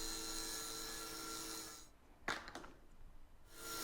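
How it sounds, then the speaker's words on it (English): Saw ripping a 4-inch strip from half-inch plywood, a steady whining cut that stops abruptly and is followed by a few faint knocks and rustles. "I'm starting off by ripping out a 4-inch strip"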